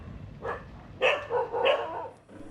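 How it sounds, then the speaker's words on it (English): Vigilant guard dog at a walled compound in southern Bali barking, giving three or four sharp, fairly close barks in quick succession, the middle ones loudest, then trailing off. "dog."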